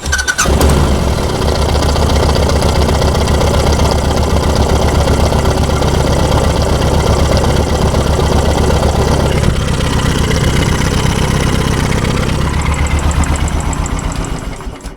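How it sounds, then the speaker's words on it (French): A Royal Enfield Classic 500 single-cylinder engine starts and idles steadily with a loud, even low thump, running alone for most of the time and easing slightly near the end. "je vais allumer le moteur pendant à peu près 20 secondes"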